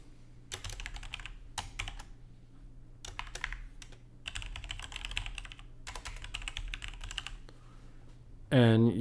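Rapid bursts of computer keyboard typing, entered in several quick runs of clustered key presses with short pauses between them, up close, ending with a brief louder tonal sound.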